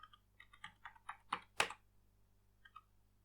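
Someone types a superuser password on a computer keyboard during an openSUSE software install: a short run of quiet, irregular key clicks, with one sharper tap near the end and a final couple of light strokes.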